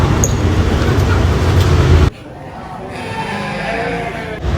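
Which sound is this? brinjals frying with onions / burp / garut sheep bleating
garut sheep bleating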